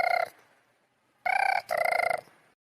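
A telephone ringing while a call is placed, heard as one short burst of the bell, a pause, then two longer rings close together, clear and moderately loud with no talking.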